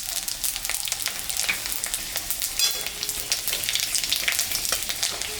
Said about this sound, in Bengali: আর একটু তেল আমি দিলাম শুকনো লঙ্কা পাঁচ ফোড়ন সম্বরা দিলাম